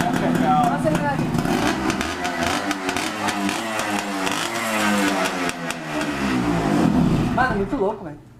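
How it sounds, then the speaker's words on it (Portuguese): A motorcycle engine revved hard and held at high revs, loud and close for the whole stretch, with rising and falling harmonics and a voice speaking over it. "Vamos acelerar aqui."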